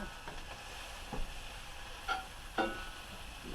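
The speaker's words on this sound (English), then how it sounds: "Mix all this delicious stuff together" Fajita fillings stirred in an oiled pan over a fire, a low steady sizzle broken by a few soft scraping knocks of the spoon, close and quiet.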